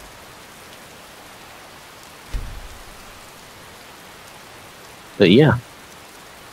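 Steady rainfall from the Nimbus weather mod in Skyrim, a soft continuous hiss of falling rain throughout, broken by a brief low thump and a short spoken remark near the end.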